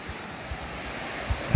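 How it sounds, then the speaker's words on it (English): Strong ocean waves wash onto a harbor shore at night, a continuous low surf rumble with a few louder surges near the end, moderately quiet and mixed with some wind noise. "I love it when the waves are nice and strong like that."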